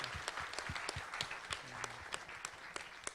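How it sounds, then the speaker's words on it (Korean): Scattered applause from a small audience at a Korean startup venture forum, individual claps distinct and uneven, moderately close with a faint murmur beneath. "새로운 출발을 박수로 부탁드리겠습니다"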